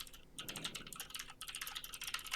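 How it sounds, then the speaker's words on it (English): Rapid, uneven typing on a cheap computer keyboard, with clustered key clacks running steadily and close throughout, recorded during a podcast with no talking over it. "I hear you typing."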